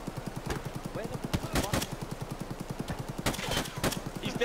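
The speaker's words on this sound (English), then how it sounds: "He's dead! Stop shooting!" Gunfire in the shooter game Escape from Tarkov, with rapid automatic bursts and sharp single shots cracking loudly in quick succession, some spaced heavier reports standing out, all continuing for the whole stretch.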